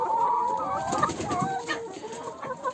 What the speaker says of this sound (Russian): Курочки у меня заболели ларинготрахеитом.